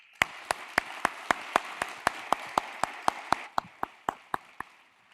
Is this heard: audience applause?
yes